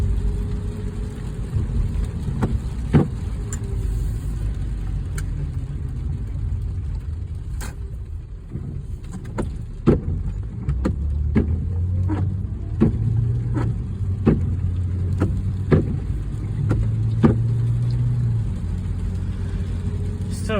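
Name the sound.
2002 Acura TL Type-S driving and shifting gears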